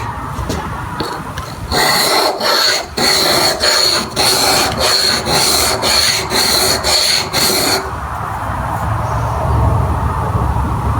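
A chisel rubs on an old oil stone in quick back-and-forth strokes, a loud rhythmic rasping scrape repeated about a dozen times. The strokes then stop, leaving a quieter hiss.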